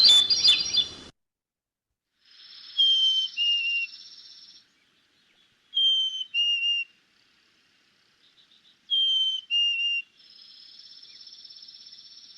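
A recorded chickadee sings clear, whistled two-note phrases, repeated several times with short pauses between, alongside thin high call notes, with a brief sharp burst at the start.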